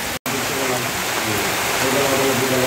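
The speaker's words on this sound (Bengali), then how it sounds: "আর বৃষ্টি ভালো করেই হচ্ছে, কখন থামবে কোনো আন্দোলন নেই।" Heavy rain pours down around a shed on the way from Kolkata to the Sundarbans, a loud, dense, unbroken hiss with faint voices murmuring beneath it.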